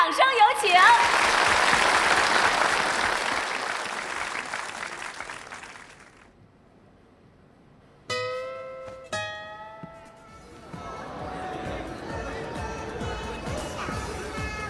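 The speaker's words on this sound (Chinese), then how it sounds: "掌声有请" An audience on a stage show applauds loudly and densely for several seconds, then fades out. Bright chime-like musical tones and further softer stage sound follow.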